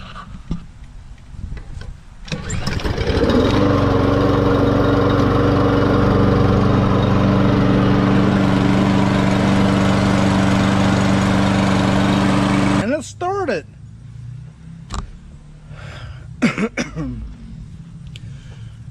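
Lawn mower engine starting after a couple of pull-cord tugs, then running at a steady loud idle for about ten seconds before cutting out, followed by quieter handling noises.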